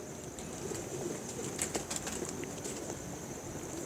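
Soft pigeon coos murmur amid a steady, noisy outdoor background, with a few brief flutters and chirps near the middle.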